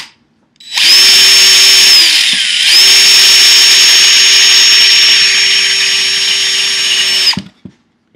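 A power drill bores holes into wood, whining loudly and steadily for several seconds with a short dip and restart near the beginning, then stops abruptly.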